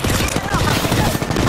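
Rapid automatic gunfire from a firefight in Apex Legends, a loud, dense burst of shots rattling continuously and close up with no pauses.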